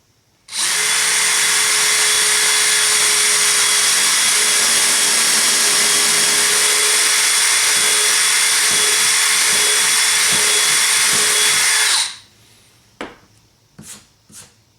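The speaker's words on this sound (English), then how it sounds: "I can go ahead and drill through this here" A power drill bores through a wooden end table, a loud continuous high whine lasting about eleven seconds before spinning down, followed by a few sharp knocks.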